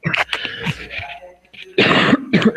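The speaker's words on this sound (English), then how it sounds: "Yes, I was just coughing." Several harsh, close coughs and throat-clearing bursts in quick succession, loud and raspy, with a brief pause between fits.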